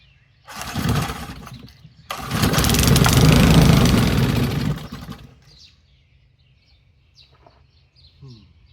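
An old Briggs small engine, hand-choked, sputters briefly, then catches and runs loudly for about three seconds before dying out, leaving quiet outdoor air with faint bird calls.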